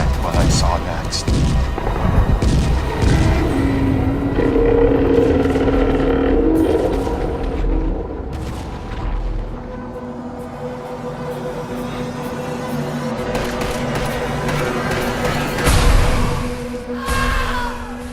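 Game explosions and gunfire from GTA 5 rumble in a continuous loud mix, with low booms and sharp crackling bursts and a bright blast near the end; a voice talks over the din.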